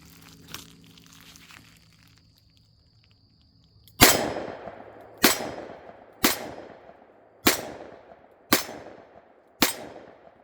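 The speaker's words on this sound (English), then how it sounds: "Let's see what these 357 Magnum full house loads will do shooting double action." Six evenly spaced, loud .357 Magnum full-power shots from a Smith & Wesson Model 19 revolver fired double action outdoors, each a sharp crack with a ringing tail, after a few seconds of quiet handling.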